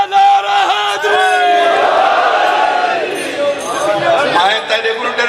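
A large crowd at a religious gathering loudly chants the Nara-e-Haidri slogan in unison, a sustained roaring shout with voices swelling and falling together and a final surge near the end.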